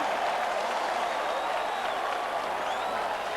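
At the 1991 Ulster Final between Donegal and Down, a large Gaelic football crowd applauds and roars after a score, a loud, dense, sustained wash of clapping and cheering with no clear voices.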